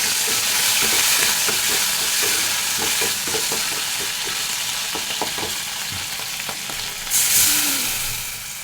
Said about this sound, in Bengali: এই চাপা শক্তিটা দিয়ে আমি একটু ভাজি করে নিতেছি একটু তেলের মধ্যে ভাজি করলে